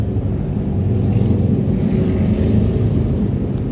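Steady low engine rumble from a group of motorcycles passing a house outdoors, continuous and fairly loud throughout, with no voices.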